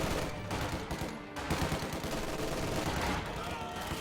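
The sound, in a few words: machine gun fire in a video game battle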